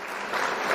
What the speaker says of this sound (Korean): 오늘 수고 많이 해주시는 세 분 강사님께 감사 박수를